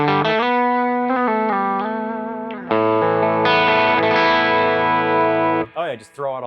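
Electric guitar through a Mesa/Boogie Mark IIC+ amp with the gain pushed toward 8 into light overdrive, playing sustained chords and notes loud and close, ending in brief talk.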